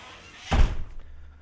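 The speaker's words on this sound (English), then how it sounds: "And we close the garage door." A single heavy thunk as a garage door shuts, close and fairly loud, followed by a short fading rattle and quiet, in binaural recording.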